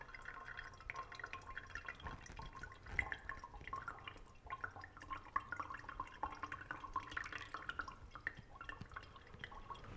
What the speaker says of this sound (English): now I'll very carefully and slowly pour in my ferric ammonium citrate solution